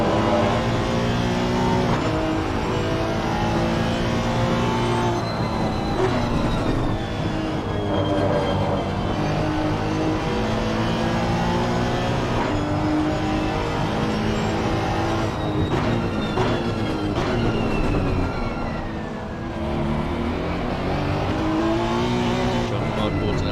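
Race cars, including a Porsche, lap Silverstone in a four-hour endurance race in a racing video game, engines loud and close, whining up and down through gear shifts with cars passing, under lively commentary voices.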